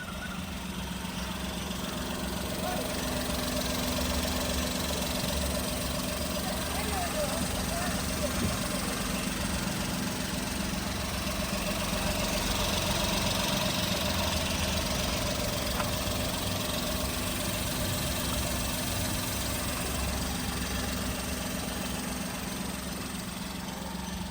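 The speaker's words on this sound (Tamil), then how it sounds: "இப்போ நெக்ஸ்ட் நம்ம வண்டியோட இன்ஜின் சவுண்ட் எப்படி இருக்குன்றதை நம்மளோட கேமராவை இன்செர்ட் பண்ணி அதையுமே காட்டிடலாம்" A 2013 Maruti Suzuki Alto 800 VXI petrol engine idling close by, a continuous low rumble with a faint rhythmic knock, running evenly without revving throughout.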